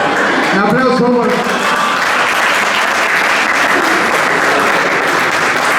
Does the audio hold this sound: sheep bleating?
no